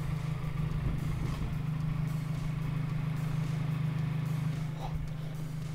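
Mazda MX-5 ND sports car fitted with a new exhaust pipe, a steady low engine drone and rumble at moderate level, continuous and close, with faint clatter and no speech.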